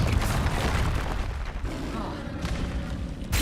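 A Confringo explosive spell blasts in Hogwarts Legacy, a loud, sustained rumbling boom filling the clip with heavy low-end noise.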